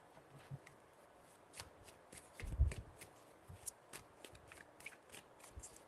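A deck of tarot cards is shuffled close by with repeated soft riffling and flicking, the quiet card slaps coming in irregular bursts with no talking.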